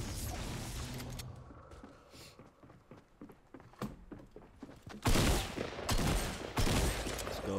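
Gunfire in a Fortnite match, starting with scattered light clicks and taps, then a loud dense burst of rapid shots from about five seconds on.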